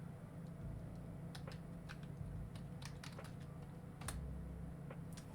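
Quiet computer keyboard typing, a run of light, irregular key clicks over a steady low background hum, with no talking.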